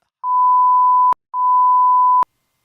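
Two loud, steady electronic beeps, each about a second long, separated by a short gap, ending abruptly with clicks, then silence.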